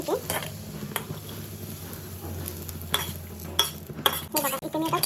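Grated coconut roasting in a hot pan with a spatula scraping and clinking through it, a low sizzle underneath and several sharper metallic knocks toward the end, close and moderately loud.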